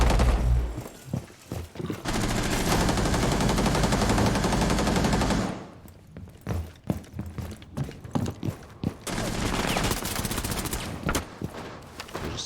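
Automatic gunfire sprays through a wall in a video game: a long sustained burst opens, followed by a scatter of sharp single shots and short pops, then another loud sustained burst near the end.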